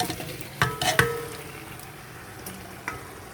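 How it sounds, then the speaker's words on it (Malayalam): Marinated chicken tipped into hot masala in a pot for home-style village chicken dum biryani, giving a soft sizzle with a few clinks and stirring bumps near the start, quiet and steady afterward. "പിന്നെ ഇത് നമുക്ക് നമ്മുടെ മസാലയിലേക്ക് ചേർത്ത് കൊടുക്കാം ഈ ചിക്കൻ."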